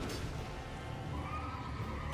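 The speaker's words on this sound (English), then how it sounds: "The horse is still alive." A horse in the video game Elden Ring gives a long, loud whinny with a rising and falling neigh, heard alone without speech.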